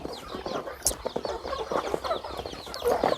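Chickens clucking on a Thai poultry farm during feeding: a dense, continuous chorus of short, overlapping clucks and squawks, close by, with no speech.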